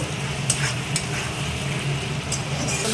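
Curry sizzles steadily as it fries in a pan, with the scrape of a spoon stirring through it in a few brief strokes, close and fairly loud, without any talk.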